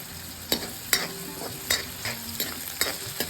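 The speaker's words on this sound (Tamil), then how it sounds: "இப்போது வெங்காயத்தை இதில் சேர்த்து வதக்கிக்கலாம்" Onions sauté with fennel seeds in a pan while a raw banana kurma is being made. About seven regular scraping stirs sound over a steady, close sizzle, with no voices.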